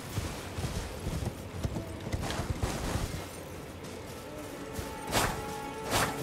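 Steady clip-clop of horse hooves while riding in the Elden Ring video game, a continuous galloping rhythm with a couple of louder thumps near the end and no talking.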